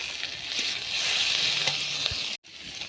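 Boiled fish dropped into onion, green chili and potato frying in oil in a wok, a steady close sizzle with a few soft stirring knocks, cut off abruptly near the end before resuming quieter.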